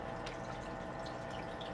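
An aquarium power head pushes CO2 bubbles into the tank water, making a steady, faint, close fizzing and bubbling rush that runs continuously without pause.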